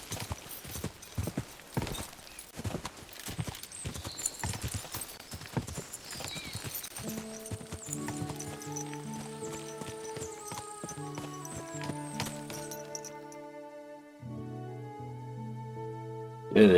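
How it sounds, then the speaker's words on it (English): A horse walks in the Kingdom Come Deliverance II video game, its hooves clip-clopping in a steady close rhythm that fades out as a soft melodic game tune takes over near the end. "Easy, good horse."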